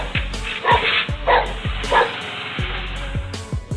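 A dog barks loudly and repeatedly outside a house, in quick bursts of sharp barks and yips that keep coming in an uneven rhythm with only short gaps between them.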